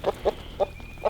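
Chickens being fed greens in their pen cluck in short, soft bursts, four quick clucks spaced unevenly over about a second, close by with faint background noise.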